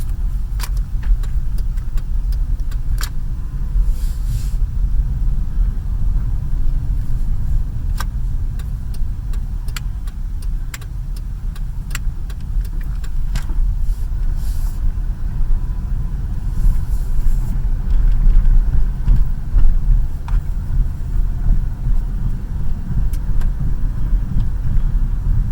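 A 1997 Ford Taurus driving after a fuel pump replacement, a car that has sat unused for a while: steady engine and road rumble heard from inside the cabin, with faint clicks and rattles and no talking.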